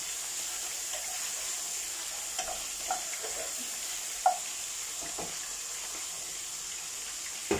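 Garlic and onion stir-frying in a pan over a lowered flame: a steady soft sizzle with occasional spatula scrapes and light taps, close and without talk.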